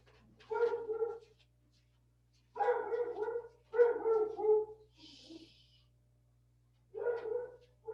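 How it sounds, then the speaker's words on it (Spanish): A pet dog barking inside a house near an open window, four separate bursts of barks spaced a couple of seconds apart, fairly close and loud against an otherwise quiet room. "Déjenme cerrar la ventana porque mi perro hace mucho ruido."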